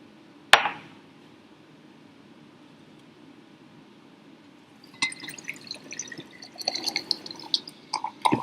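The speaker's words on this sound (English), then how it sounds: "I'm going to quickly pour the water into the apparatus" Water is poured quickly into laboratory apparatus with an inverted funnel and test tube. A sharp knock comes first, then a quiet stretch, then a run of close, irregular splashing and dripping taps.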